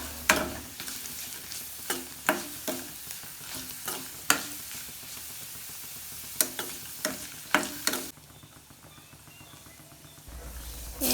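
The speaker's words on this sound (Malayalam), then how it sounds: "ഇനി നമുക്ക് മീൻ കറിയിലേക്ക് കടുക് പൊട്ടിച്ചിടാം ഞാനിവിടെ വറ്റൽമുളകും സവാ സവാള ചെറുതായിട്ട് അരിഞ്ഞതും കരിയാപ്പിലയും കൂടി ഇട്ട് നന്നായിട്ട് മൂപ്പിച്ചിട്ട്" Mustard seeds, dried red chillies, chopped onion and curry leaves crackle and sizzle in hot oil as a tempering for a red snapper fish curry. Steady hiss with repeated sharp stirring clinks, then a quieter, calmer sizzle near the end.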